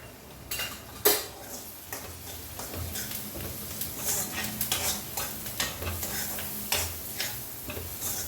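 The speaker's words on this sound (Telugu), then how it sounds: "ఈ ఉల్లిపాయ మంచిగా కొంచెం మనం పచ్చి వాసన పోయేంత కూడా వేయించుకోవాలి" Onion fries in a pan, a low sizzle running beneath frequent metal spoon scrapes and clinks against the pan as it is stirred, close by with no speech.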